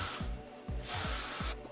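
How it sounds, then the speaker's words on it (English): Hairspray is sprayed over twisted hair in several short hissing bursts, close and loud, with brief pauses between them. "I'm going to take a little bit of hairspray and just spray this entire thing"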